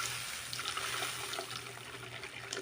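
Water pours into a cooking pot in a home kitchen, a soft continuous splashing stream that stays steady and fairly quiet throughout, with no voices.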